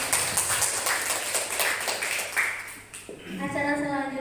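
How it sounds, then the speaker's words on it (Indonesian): Audience clapping at a school event on positive school culture, a dense wash of hands for about three seconds, then fading as a voice begins speaking. "Boleh beri tepuk tangan dulu"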